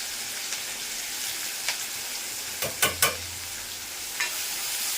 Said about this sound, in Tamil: இப்போ வெங்காயம் போடுறேன் இரும்பு கடாயில் டக்குன்னு ஆகிடும்